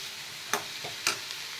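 Cabbage, chana dal and turmeric stir-fried in a pan, with a few distinct scraping stir strokes about half a second apart over a faint steady sizzle.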